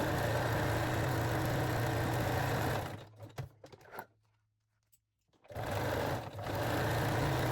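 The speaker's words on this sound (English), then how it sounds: "And secure the ends with the zigzag stitch." A sewing machine runs a zigzag stitch over elastic on a panty waistband in a steady buzzing run, stops for a quiet spell of small clicks, then starts up again.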